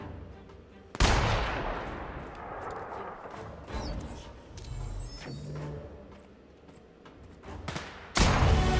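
Shotgun blasts go off in The Outer Worlds: two sharp, loud booms about seven seconds apart, with scattered softer combat thuds and clatter in between.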